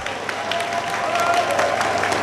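Steady crowd applause fills the space, dense and continuous, with a constant murmur beneath the clapping.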